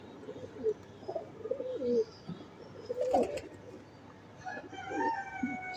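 Pigeons coo in soft, repeated low bursts, fairly close, with faint background noise and a light chirp near the end.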